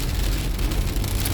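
Rain falls steadily during Tropical Storm Debby in North Carolina, likely heard from inside a car, a continuous close broadband hiss with no voices.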